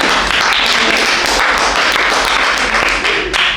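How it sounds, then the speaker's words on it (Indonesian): Dense, loud, continuous applause from a high school science classroom, a steady wash of many hands clapping at once with no gaps. "Oke, tepuk tangan buat kita semua."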